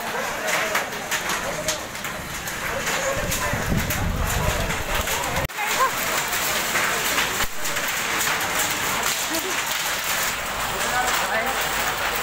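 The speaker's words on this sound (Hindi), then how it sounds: "ओले गिर रहे हैं बारिश हो रही है।" Hail and rain fall together along the Vaishno Devi route, a dense, steady patter that drums continuously at close range while people talk over it.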